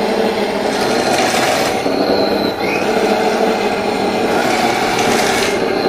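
A Heng Long Challenger 2 RC tank's electric drive motors whine steadily and loudly at close range, with a buzzing mechanical gear rattle that holds constant throughout without any talking.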